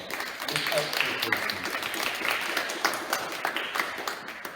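An audience claps at a school leavers' assembly awards ceremony, a sustained patter of many hands at moderate level that holds for several seconds with a few sharper claps standing out.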